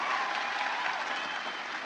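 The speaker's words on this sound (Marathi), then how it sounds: "एकदा जोरदार टाळ्या झाल्या पाहिजे आपल्या सरांसाठी" An audience breaks into loud, dense applause at a motivational talk, continuous clapping filling the whole moment at an even level.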